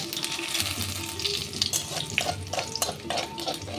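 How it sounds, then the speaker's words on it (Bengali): Fennel seeds and a bay leaf sizzle in hot mustard oil with a pinch of salt, a short close burst of frying hiss with crackles and a few scraping stirs. "এবার তেলে অল্প একটু লবণ ছিটিয়ে আমি দিয়ে দিচ্ছি একটা ফোড়ন মৌরি আর একটা তেজপাতা"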